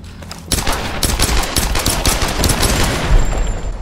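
Enemy gunfire in the Tomb Raider video game: dense, rapid bursts of shots crackle loudly and continuously, overlapping into a sustained barrage with no talking.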